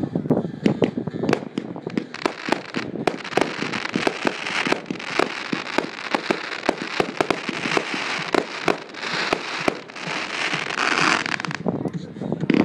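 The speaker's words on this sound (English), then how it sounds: "It's a fan crackle kick by Winda." A 500-gram Need for Noise fan crackle firework cake by Winda fires at a fireworks demo, a dense run of sharp pops and crackling bursts repeating across the clip, fairly near, with voices talking in places.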